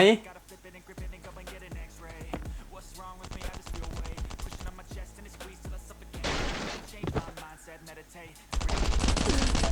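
Rapid gunfire in the survival game Last Island of Survival, with bursts of sharp shots and automatic fire, loud and continuous, over a game soundscape.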